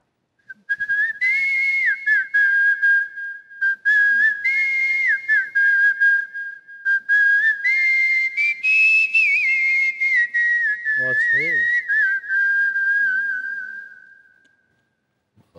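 A man whistles a song on a comedy talk show stage, a loud, close, clear melodic whistle in continuous phrases for about fourteen seconds, with a brief low vocal note near the end.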